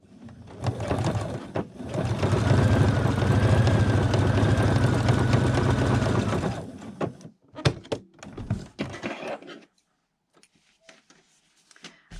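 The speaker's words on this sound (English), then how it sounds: "I'm just going to do a stretch stitch to finish the loop." A sewing machine runs a stretch stitch to close a headband loop with raw edges together, whirring steadily for several seconds before stopping. A few soft thumps follow.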